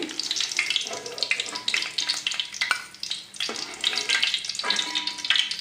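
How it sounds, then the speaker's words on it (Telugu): Onions fry in a pan with a steady, close sizzle and crackle, broken by stirring scrapes and brief lulls; a voice talks intermittently over the cooking. "మూత పెట్టేసుకుని మళ్ళీ కొంచెం ఒక ఐదు నిమిషాలు ఫ్రై అవ్వనిద్దాం"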